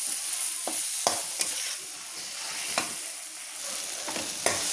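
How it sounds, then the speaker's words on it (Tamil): Okra stir-fries with crushed tomatoes in a pan, giving a steady sizzle with intermittent scraping clicks from the stirring spoon, close up and with no talking. "வெண்டைக்காய் போட்டு நல்லா பரட்டிடுங்க"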